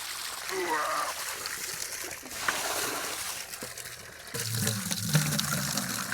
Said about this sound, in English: The 1 inch of water coming out is pretty clear.